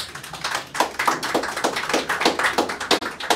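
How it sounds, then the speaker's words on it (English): Thin, sparse applause at a chess league match, a small patter of claps with soft individual hits rather than a full ovation, close and moderately loud without speech. "that wasn't very good applause"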